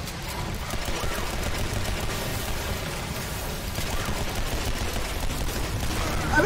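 Continuous rapid gunfire from weak guns in the video game Legendary, a dense, steady rattle of shots that runs without pause, moderately loud, with mechanical clatter mixed in.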